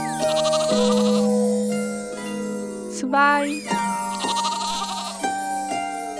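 Cartoon sheep bleat one after another in a steady counting rhythm over a gentle lullaby tune with tinkling chimes, at bedtime, loud and close, as a voice briefly says a number.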